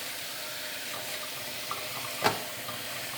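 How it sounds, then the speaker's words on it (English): A running tap pours cold water over dyed macrame cord as it is rinsed, giving a constant close splashing hiss with one brief louder splash partway through. "You just want to rinse it until it runs clear, basically."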